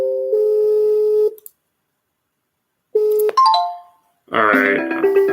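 Telegram app incoming call ringtone: clear electronic tones in short bursts separated by silence, with a brief rising jingle at the end, close and loud.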